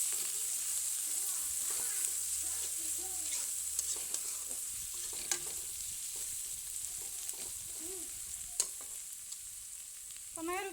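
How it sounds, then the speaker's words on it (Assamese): Onions with ginger, garlic and chillies stirred while frying in a pan for a taro stolon dish, a soft sizzle under repeated scraping of a spatula, close, with brief voices in the background. "পিঁয়াজখিনি অকণমান লৰাই দিম"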